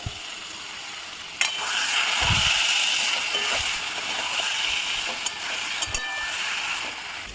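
Chicken pieces and potatoes sizzling and frying in a pan with Kashmiri chilli powder, turmeric and other ground spices, a steady broadband hiss with occasional stirring clatters and knocks.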